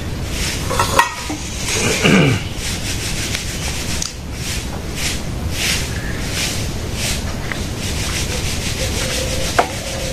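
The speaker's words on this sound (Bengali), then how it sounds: "ভাত হচ্ছে, সবজিটা কেটে নেই" Brinjal, pointed gourd and potato are cut by hand, with rhythmic rubbing, scraping knife strokes and occasional knocks against a surface, close and continuous with no talk.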